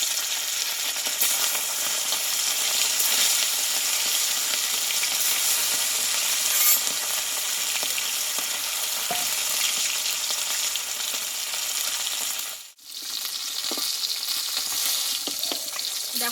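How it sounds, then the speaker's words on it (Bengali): Pieces of bata fish frying in hot oil in a pan, with a loud, continuous close sizzle and occasional stirring, briefly dipping near the end before resuming, with no talk. "তেলে বাকি মাছগুলো ভেজে নেব"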